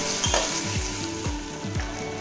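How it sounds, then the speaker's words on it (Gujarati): Onions and ginger-garlic paste frying in oil in a pressure cooker for masala rice, a dense close sizzle with regular scraping strokes of a spoon stirring through it. "આદુ લસણની પેસ્ટ એડ કરી દઈશું કાંદા એડ કરી દઈશું એડ કરી દઈશું હવે તેને સારી રીતના હલાવી લઈશું"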